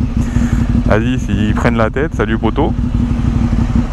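A Ducati 848 SBK sport motorcycle on the motorway, its engine a steady low drone that rises in a few short revving bursts, with someone speaking French over it.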